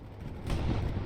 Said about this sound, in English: Artillery landing.